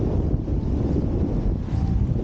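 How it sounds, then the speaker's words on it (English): Strong gusty westerly wind buffets the microphone on open water while wing foiling upwind, a loud continuous low roar with surging gusts and no voices. "The wind's super gusty."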